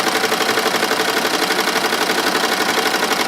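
An embroidery machine runs at about 700 RPM while it stitches a logo onto coveralls above the pocket. It makes a steady, loud, rapid mechanical chatter with no break and no talk.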